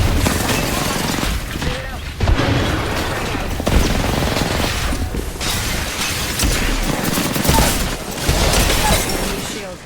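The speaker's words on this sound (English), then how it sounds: "Dude, I'm using only shotguns right now." Shotgun fire in a squad-based shooter video game, loud repeated blasts and booms layered with chaotic combat effects throughout, with voices calling out over the gunfire.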